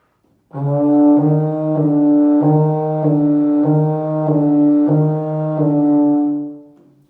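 Close, mellow euphonium notes flow smoothly into one another in a connected slurred line, with no breaks between pitches, fading at the end.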